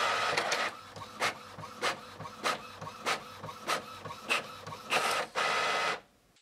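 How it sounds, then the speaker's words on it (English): A home printer prints a sticker sheet for a Cricut project, repeating regular mechanical whirs and clicks about every half second, then a longer feed sound before it stops. "So I'll send it to my printer."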